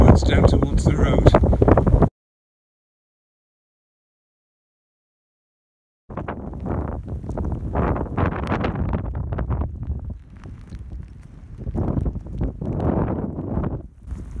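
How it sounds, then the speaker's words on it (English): Gale-force wind blows across a bleak Welsh mountainside near Carn Pen y Clogau, a loud, close, rumbling buffet that cuts out into silence for a few seconds, then returns in continuous surging gusts. "blowing a gale. Whichever side of the mountain I'm on, that's where the wind comes from."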